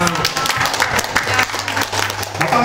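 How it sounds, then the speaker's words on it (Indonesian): Brief, loud applause from an audience at a product presentation in Indonesia, a busy mass of clapping with a low hum and some voices blended in. "Masya Allah, tepuk tangan"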